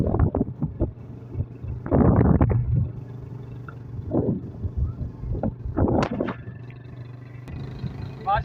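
Cool wind buffets the microphone during a motorbike ride through rural countryside, coming in rough gusty bursts over a low steady engine drone, with someone talking between the gusts.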